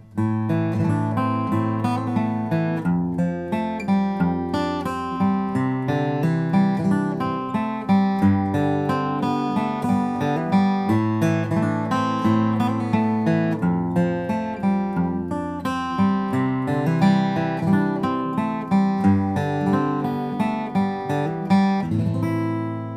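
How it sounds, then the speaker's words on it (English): Acoustic guitar strums through a chord progression with added melodic embellishments, steady and full throughout with no voices. "let me just put that together in the chord progression so you can hear a little bit of"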